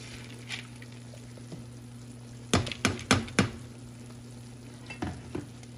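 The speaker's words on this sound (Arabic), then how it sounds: "هسه راح نضيف العدس المغسول هنا" Washed lentils go into a pot of sautéed onions for a lentil and chicken stew: four quick scraping, clattering bursts land in close succession, then a couple of softer ones follow, all over a steady low hum with no talk.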